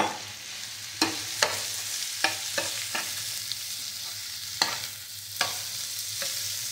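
Soya chunks frying for Chinese-style chilli soya, a steady close sizzle broken by a dozen sharp spatula scrapes and knocks against the pan at an uneven pace, with no voices.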